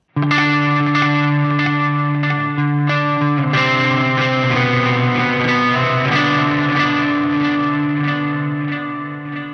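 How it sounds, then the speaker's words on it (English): A single strummed electric guitar chord through Meris Mercury X reverb and LVX delay pedals rings out thick with shimmering reverb and echoing delay, a second strum joining partway and the wash slowly sustaining. "strum a chord and it would continue to ring out with a high mix like you're hearing there"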